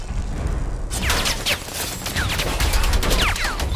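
Rapid bursts of gunfire in the Predator: Hunting Grounds video game, loud and close, with sharp repeated shots over a dense background of game noise and ricochet-like whistles, no talk.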